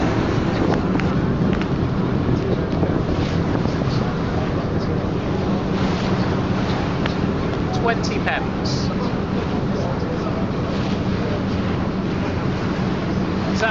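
Steady low engine rumble and water wash of an old boat crossing Hong Kong harbour, with wind noise and a voice speaking briefly over it.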